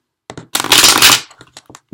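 Tarot cards being shuffled by hand, a short papery riffle burst of about half a second, surrounded by soft card taps and handling clicks, close and fairly loud.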